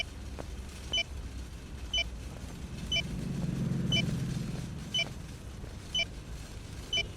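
Sharp electronic beeps repeat steadily about once per second over a low engine rumble inside a moving car, the beeps staying clear and evenly spaced throughout.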